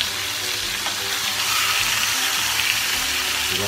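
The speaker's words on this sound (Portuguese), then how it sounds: "agora aqui vamos começar a fritar o nosso bife" Large beef steaks fry in a pan, giving a loud, dense, continuous sizzle and crackle close up, with no talking.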